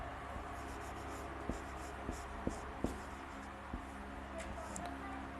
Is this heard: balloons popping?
no